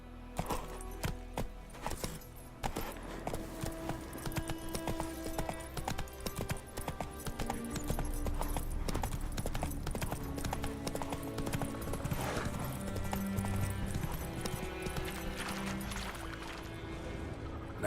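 Roach the horse gallops in a video game, hooves clip-clopping in a steady rapid rhythm for the whole stretch, layered with game music and ambience.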